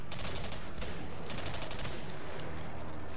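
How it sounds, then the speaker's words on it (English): Rapid shotgun fire and explosions in the first-person shooter game Singularity, dense and loud bursts of shots layered over one another, blasting continuously. "Fire the shotgun three times or something."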